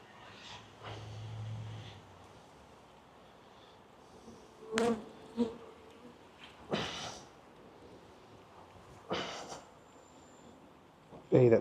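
Honeybees buzz during a beehive inspection, a faint hum at the start followed by scattered, sharper handling noises and breathy sounds close to the microphone.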